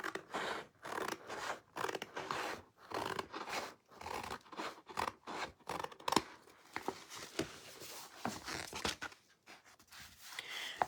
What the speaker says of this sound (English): I'm gonna trim a little bit off over here too.